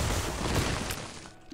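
Explosions in the game Isaac Repentance: a dense, loud rumbling volley of blasts filling the first second, then tailing off into quieter scattered pops.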